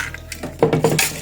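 Dry eggshells are tipped into a blender jar, a brief cluster of light clinks and rattles against the container, close and fairly loud, with no talking.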